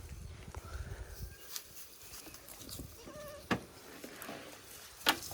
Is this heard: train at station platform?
no